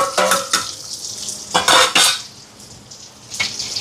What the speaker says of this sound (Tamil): சோறு அவியட்டுக்கு எண்ணெய் சூடாயிட்டு கொஞ்சமாக கடுகு சேர்க்குறேன். இது வந்து அம்பரலங்காய்க்கு. இதோட சின்ன வெங்காயம்,